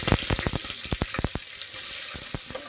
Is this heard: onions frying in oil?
yes